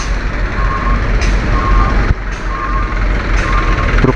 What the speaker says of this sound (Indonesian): truk-truk tengah sibuk bekerja di sini, membantu alat berat untuk bisa memperbaiki jalan yang rusak